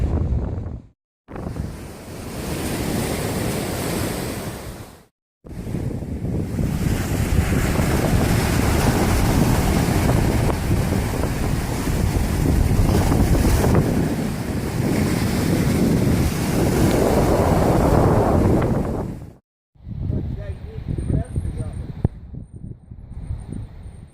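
Ocean waves rush steadily onto a Southwest Florida beach with heavy wind buffeting the microphone, a loud continuous wash broken by two brief dropouts, then fading to quieter surf near the end.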